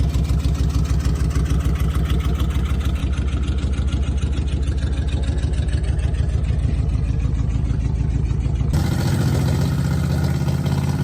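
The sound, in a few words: car engine revving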